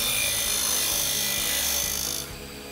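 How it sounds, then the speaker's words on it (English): A disc sander grinds an aluminum bicycle frame tube up to a marked line, giving a steady, loud, close abrasive rasp that drops off sharply near the end. "a disc sander is used to sand right up to the line."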